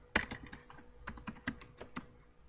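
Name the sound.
pressing Enter key on computer keyboard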